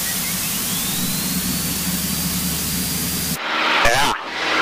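A light airplane's engine roars steadily through a takeoff roll down a runway, a loud, continuous drone with a rising whine, then abruptly changing to gusty, buffeting noise near the end.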